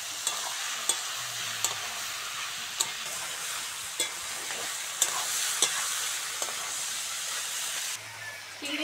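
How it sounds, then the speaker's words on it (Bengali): Taro stolons frying with shrimp in a pan, giving a steady sizzling hiss throughout with periodic light taps and scrapes of a stirring utensil, and no talking. "চিংড়ির সঙ্গে কচুরলতিটা ভালো করে ভেজে নেব।"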